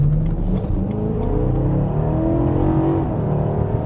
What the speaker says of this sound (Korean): 엔진 사운드고